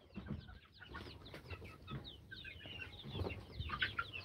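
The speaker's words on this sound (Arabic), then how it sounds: "ما تجريش ورا الفراخ عشان ما تنطش من على السلم" Chickens on a rural Upper Egyptian home's stairway cluck and chirp in a busy, uneven stream, with scattered calls rising over soft background noise and no voices.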